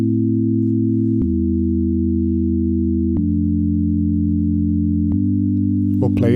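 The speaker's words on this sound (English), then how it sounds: "Now that was being played by sine waves, the simplest, least designed sound that exists" Sustained sine-wave chords step through a slow progression, each pure, smooth block changing at steady intervals about every two seconds, clean and even with no other sounds.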